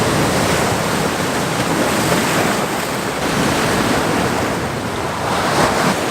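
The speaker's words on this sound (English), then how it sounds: "Got the waves breaking coming in from the left hand side" Ocean waves break and wash continuously along a shore, a loud, broad rushing surf with wind buffeting the microphone throughout, no voices.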